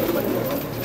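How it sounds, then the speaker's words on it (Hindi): Pigeons coo continuously nearby on a rooftop loft in Karachi, low throaty murmuring that blends into a steady soft drone. "जिस तरह से इन्होंने कबूतर रखे हुए हैं यहाँ पर"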